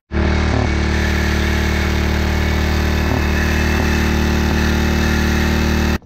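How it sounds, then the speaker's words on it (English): A small pull-start engine runs flat out at a high, screaming pitch, loud and steady for about six seconds with a few brief dips, then cuts off abruptly at the end. "This thing is really screaming when it's running, and it tends to kick this pull start assembly back out."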